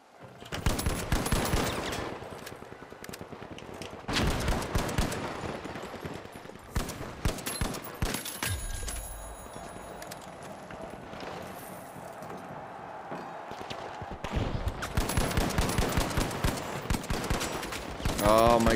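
Dense gunfire from The Finals video game, with bursts of rapid automatic fire and scattered shots recurring across the clip, loud and close, broken by short quieter gaps with lingering game ambience.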